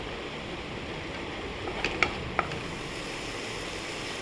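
Yoghurt curry with cumin powder, coriander powder and a splash of water is sautéed in a pan for a paneer dish, giving a soft, steady sizzle broken by a few brief spoon clinks.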